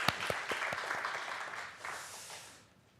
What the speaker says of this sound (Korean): 여기서 먼저 우리 그동안 목자로 수고해 주셨던 김은숙 권사님, 양미영 권사님, 최말성 권사님을 위해서 박수 한번 보내주시기 바랍니다